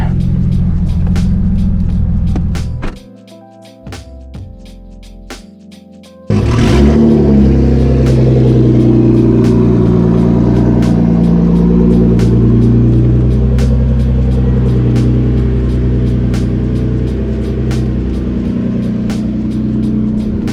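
A car engine with a rear-mount turbo setup idles loud and close, with a rough, rattly rumble that briefly drops to a lower drone before surging back steady.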